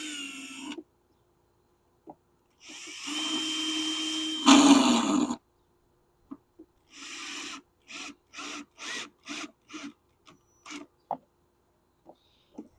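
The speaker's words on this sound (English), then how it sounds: "So make sure you turn your drill down." Power drill driving decking screws into wooden beehive deep boxes during assembly, several short bursts of whirring with pauses between them, close and fairly loud, no talking.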